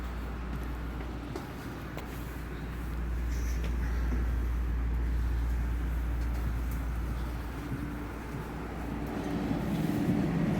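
A commuter train runs local toward Grand Central with a steady low rumble and rolling hum, swelling slightly midway, a constant moderate drone without voices.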